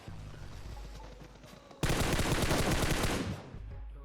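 Loud sustained burst of automatic gunfire in the PUBG Mobile video game, a dense rattling volley that starts abruptly after quieter game ambience and runs for about two seconds before easing off, with no talk over it.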